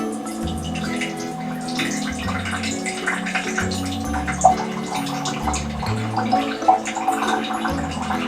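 Immune boosting tea with a dark amber colour is poured from a container into a drink, a steady liquid trickle and splash running throughout over soft background music.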